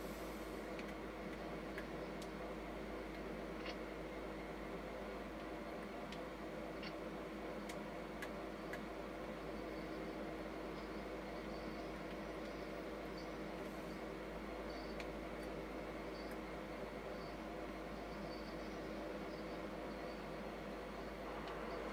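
A train rolls steadily along in a video game set in Dickenson County, Virginia, a constant rumbling drone with faint rhythmic ticking of wheels over rail joints, continuous and even throughout.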